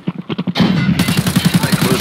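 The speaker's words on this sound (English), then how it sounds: "I'm gonna throw a frag on the corner and see what happens" An Escape from Tarkov frag grenade detonates with a sudden loud broadband blast partway through, preceded by a rapid series of sharp gunshot-like pops, then a sustained rumbling roar with continued rhythmic bursts; no talking.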